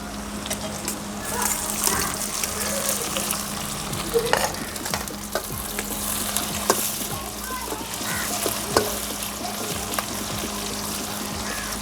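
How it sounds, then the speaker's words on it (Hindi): Onions fry in a kadai in a village kitchen, a constant crackling sizzle broken by sharp spatula scrapes and knocks against the metal, up close. "थोड़े से प्याज भी डाल देते हैं।"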